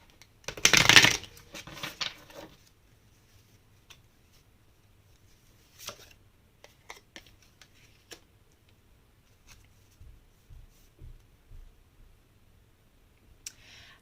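Tarot cards riffle in one short, loud burst of shuffling, then go on with soft scattered taps and slides as single cards are drawn and laid down, close and quiet, no talking.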